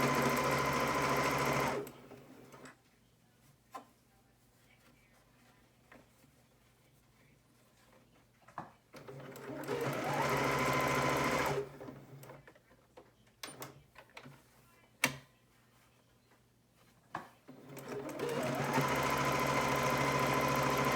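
Serger sewing machine top stitching a fabric face mask, running in three loud sustained bursts with quiet pauses between them, with faint handling clicks during the gaps.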